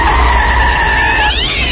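Tires skid on a street as a car strikes a cat, which lets out a loud, drawn-out screech over the squeal. The effects are from a radio horror drama and sound close and continuous.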